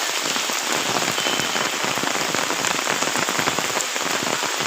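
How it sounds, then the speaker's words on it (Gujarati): Heavy rain pouring down in a rural Gujarat setting, a dense, loud, continuous patter of drops hitting surfaces with no pauses. "જોરદાર વરસાદ હ"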